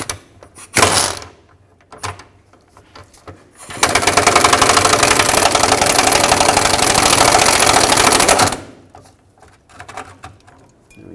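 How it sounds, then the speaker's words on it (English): A bolt is removed with a 15mm socket on the spare tire carrier of a Chevrolet Express 3500 van. A loud, steady mechanical whirr runs for about five seconds, close up, framed by scattered clanks and handling knocks. "Now with a 15mm socket, go onto this bolt here"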